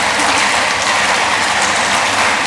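An audience at an international academic colloquium applauds loudly and densely, a close, even wash of clapping that holds steady throughout with no talking.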